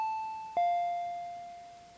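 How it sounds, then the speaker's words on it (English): A two-tone doorbell chime rings in the Higurashi visual novel game: a higher tone, then a louder, lower tone about half a second later that rings out and slowly fades, with no voices. "I heard the doorbell ringing."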